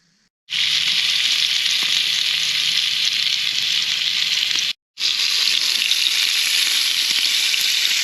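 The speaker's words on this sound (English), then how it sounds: "Got the bacon on." Bacon sizzles and crackles in a pan at a campsite, a loud, dense hiss that starts abruptly, cuts out for a split second midway, then resumes steadily.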